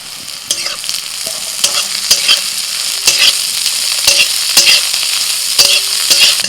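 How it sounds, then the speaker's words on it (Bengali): Shrimp fry with chopped garlic, slit green chillies and chopped onion, a loud continuous sizzle punctuated by regular clanking strokes of a spatula stirring in the pan. "সব কিছু ভেজে নিয়ে এবার চিংড়ি মাছগুলো দিয়ে দিচ্ছি"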